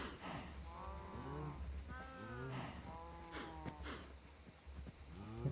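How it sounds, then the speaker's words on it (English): Several Minecraft cows moo repeatedly in overlapping calls, fairly close and steady over a soft background, with no speech. "Hello, cows."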